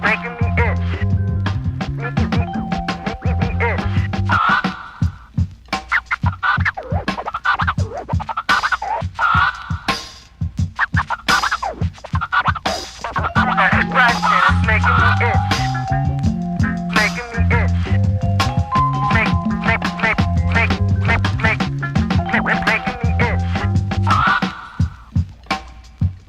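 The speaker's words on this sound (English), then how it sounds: "That scratching is making me itch." Rhythmic DJ turntable scratching plays within a hip-hop track, with quick back-and-forth scratched sounds layered over a beat across the whole stretch.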